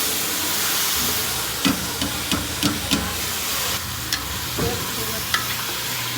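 Marinated chicken frying in oil in a pot on the stove for Champaran chicken curry, a steady loud sizzle broken by several sharp scraping stirs.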